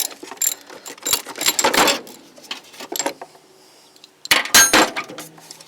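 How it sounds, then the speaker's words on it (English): Ratchet working on a stuck alternator bolt on a 1992 Jeep YJ with a 4.0L engine: bursts of quick metallic clicking and clinking in two clusters, close and fairly loud, with a quiet gap between them. "I'm just pushing from the back side of the bolt there and trying to ratchet it out a little bit"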